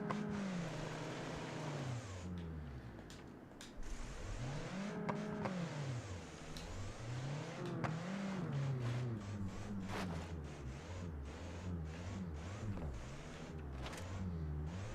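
A video game car engine revving hard in low gear, its pitch climbing and falling in repeated loud sweeps for the whole stretch, with no talking over it.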